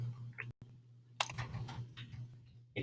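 Computer keyboard keys clatter in a short run of quick taps, close and light, over a steady low electrical hum with a brief dropout before the typing starts.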